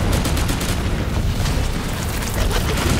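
A dense, continuous low rumble of explosions in the video game Firefall, loud and sustained with no gaps and repeated thumping bursts inside it.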